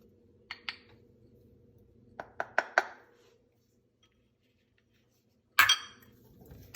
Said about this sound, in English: I'm just stirring them together.